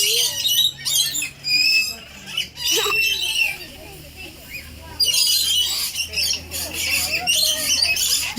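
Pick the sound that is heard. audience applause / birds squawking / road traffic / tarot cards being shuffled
birds squawking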